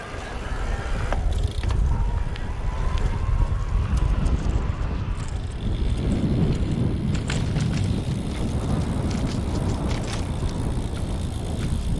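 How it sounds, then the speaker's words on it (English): Keys jingle and clatter in irregular bursts on a Yamaha Cross Core motorcycle, over a steady rush of wind and road noise while riding over rough pavement. "What you're hearing is probably those keys bouncing around."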